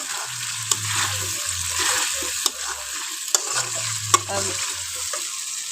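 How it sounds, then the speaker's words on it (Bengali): Raw spice paste for meat is stir-fried in a wok in a village kitchen, a steady sizzle broken by scraping stirs and several sharp metallic taps, while someone talks intermittently over it. "এখন দেখো মশলাটা কষাচ্ছি।"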